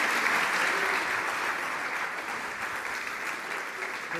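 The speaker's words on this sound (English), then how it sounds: "So big applause to Konrad and Nelly, everybody." Audience applause at an annual conference session on news and young audiences, a steady, dense wash of clapping from a large room that holds even and then slowly eases slightly over four seconds, with no talk over it.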